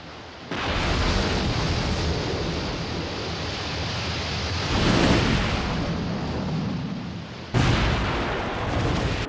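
Gas field blowout in the Thunderbirds episode Atlantic Inferno: a sustained roaring rumble of fire and explosion, loud and broadband, with sudden surges near the start, midway and again late, no talking.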